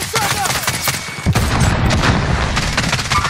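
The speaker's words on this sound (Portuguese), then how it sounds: "Granada lançada!" A thrown grenade detonates in the video game Warzone as a loud burst a little over a third of the way in, set inside a constant, dense clatter of close gunfire.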